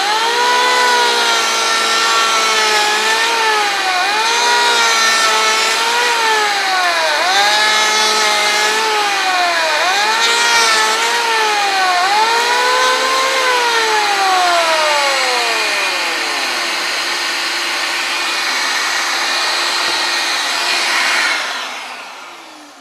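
A power planer or similar tool flattens a board while a shop vac runs for dust collection, producing a loud, steady whine with pitch sweeps rising and falling as the cutter loads and unloads, continuous for about twenty seconds before cutting off.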